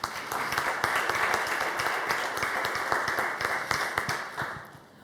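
Audience applause for a speaker introduced at a Portuguese panel on the classics in the digital era, dense clapping with distinct individual claps that holds steady and then fades out near the end.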